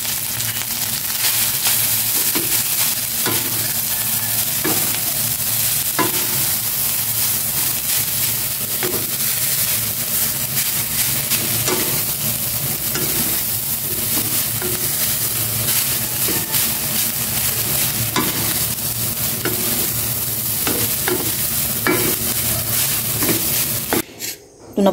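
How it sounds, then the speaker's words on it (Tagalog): Rice and a little salt stir-fry in a hot pan, a continuous close sizzle broken by the scrape and clack of stirring, loud throughout until it stops abruptly at the end. "Magsasangag naman na ako. Lagay ko na itong kanin. Lagay ko ng konting asin."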